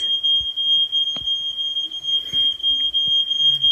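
A household smoke alarm beeps continuously with a piercing high-pitched tone, loud and close, sounding with no sign of smoke or fire, over a few faint thumps in the room.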